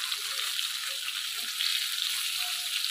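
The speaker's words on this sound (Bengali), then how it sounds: "বেগুনগুলো ভাজা হয়ে গেছে, এবারে আমি তুলে নেব।" Eggplant slices fry in oil in a pan, giving a steady soft sizzle throughout with no talk.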